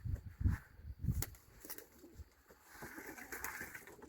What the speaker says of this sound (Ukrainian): Голубочку випустю, хай сама літає, а я буду своїми справами займатися.